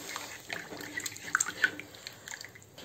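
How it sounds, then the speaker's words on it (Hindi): Water is poured into a simmering fish curry masala, faint splashing and dripping with a few brief bright spatters over about three seconds. "आइए हम अंदाज से पानी डाल दें"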